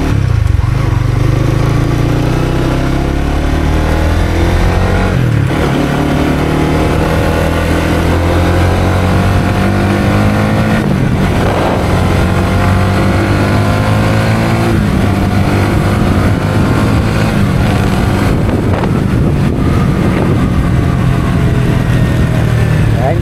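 A car engine revs loud and close as the driver rev matches through downshifts from fifth gear to second, rising and falling pitch sweeps with each blip over a constant drone.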